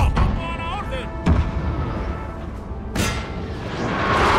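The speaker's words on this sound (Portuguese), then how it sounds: "Agora os canhões começaram a atirar na gente também" Artillery cannons booming across a Napoleonic-era battlefield in Total War: Napoleon, with a few heavy thuds and a sharp blast standing out above a dense, continuous roar of battle noise. Someone talks over it.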